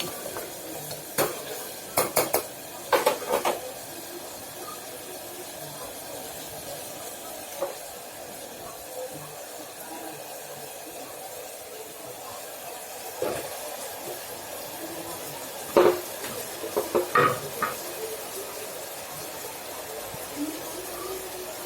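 Onions sautéing in a pan on a stove turned up to higher heat, with a soft steady sizzle beneath intermittent scrapes and clinks of a spoon against the pan.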